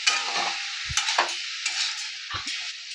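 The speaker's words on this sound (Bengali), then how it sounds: "একটু নেড়ে চেড়ে" Minced chicken filling with chicken spice being stirred in a pan, a steady sizzle broken by a few sharp scrapes and clicks of the spoon against the pan, close and fairly loud.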